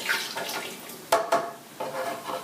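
Coconut milk poured into a blender, a steady close splashing liquid stream with a few brief knocks partway through, no voices.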